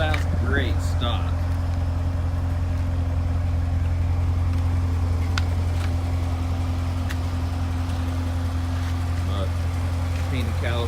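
A stock-exhaust Chevrolet C7 Corvette Stingray Z51 engine runs at a steady idle with a deep, continuous low rumble throughout, close and even, while a person talks over it intermittently.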